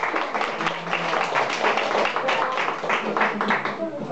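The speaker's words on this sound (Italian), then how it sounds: "Facciamo un applauso a Francesca." Crowd applause at a live card-magic show, steady dense clapping throughout with faint voices blended underneath.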